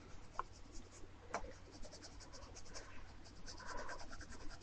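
Graphite pencil shading across paper in a sketch, soft continuous scratchy strokes with a few sharper accents, quiet and close with no talking.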